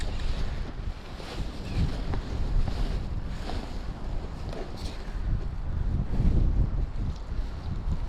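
Strong wind buffets the microphone on a taiga lake at the end of the winter fishing season, a heavy rumbling roar with gusts swelling and easing over several seconds, close and loud, with water sounds mixed in.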